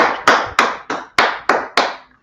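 Clapping in unison, seven sharp, loud claps in a steady rhythm about three per second, each ringing briefly into the room before the next, close by with no voices.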